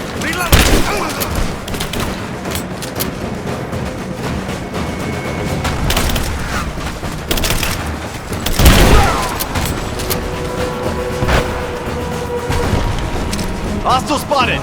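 Dense gunfire and booming impacts from a firefight in Rise of the Tomb Raider, with repeated loud bursts and volleys throughout, mixed with game voices shouting.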